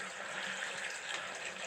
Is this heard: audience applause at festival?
no